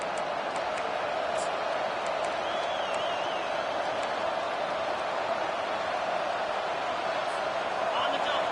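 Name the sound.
football stadium crowd roaring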